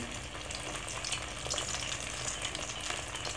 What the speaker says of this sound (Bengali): আমি চিরাটা তৈরি করে তেলে দিয়ে দিচ্ছি